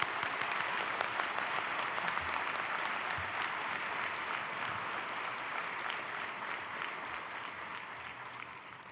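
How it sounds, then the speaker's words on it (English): Applause for graduates at a spring university convocation ceremony, a steady, fairly distant wash of many hands clapping in a large hall, sustained evenly throughout. "let's take a moment to applaud those graduates who have crossed"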